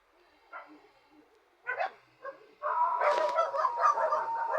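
A dog begs for milk with a few soft whimpers and short yips, then breaks into a continuous high, wavering whine, close and clear in an otherwise quiet space.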